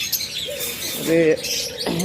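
Red-eyed budgerigars chirp in scattered high tweets amid a busy bird shop, with a person talking over the birds at moderate volume.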